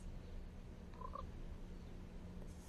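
A frog in the mobile game Pocket Frogs gives a short double croak about a second in, faint and brief over a low steady hum.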